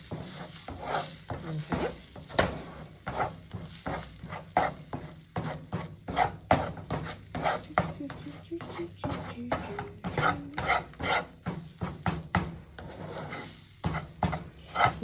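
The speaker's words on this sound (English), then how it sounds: "Now we start making scrambled eggs." Eggs being scrambled in a hot pan, with rapid, repeated scraping and clinking of a utensil against the pan over a low sizzle, close and busy throughout; a voice speaks briefly once.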